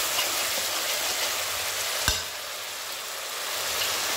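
Onion paste fries in a pan with a few cumin seeds, a steady close hiss of sizzling oil with one sharp knock midway.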